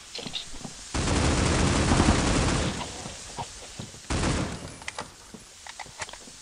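Gunfire in the mobile shooter Critical Ops: two loud sustained bursts of automatic fire, each lasting a few seconds, separated by scattered single shots and small clicks.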